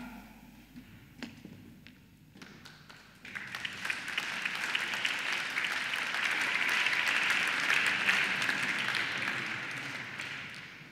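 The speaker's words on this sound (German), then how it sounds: "Vielen Dank für den Applaus" Audience applause at the Salzburg art and culture prize award ceremony, starting with a few scattered claps, then swelling into full, sustained clapping from a large crowd that carries on steadily to the end.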